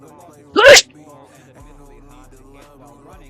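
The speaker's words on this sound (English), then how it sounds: "That was a sneeze." A single loud, abrupt sneeze bursts out once, sitting between stretches of someone talking with faint background music underneath.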